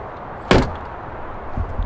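An old project car, off the road for almost ten years, has its door shut with a single sharp close-up slam that fades quickly, followed by faint low thuds.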